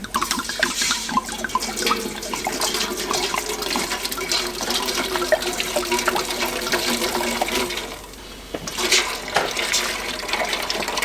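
Wine poured into a cooking pot over a camp stove outdoors, a continuous close splashing, gurgling liquid stream for several seconds with a brief dip near the end, no speech.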